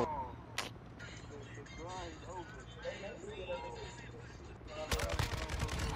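A rocket launcher in a Kastov 762 first-person shooter match lets out a sharp, loud blast near the end after an earlier quick bang, over a low rumble of background gunfire while a player talks.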